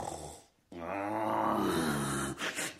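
Dragon snoring in a fairy tale, a long, loud rasping, groaning snore after a brief pause, voiced as a growling, sawing sound that is likely a human imitation.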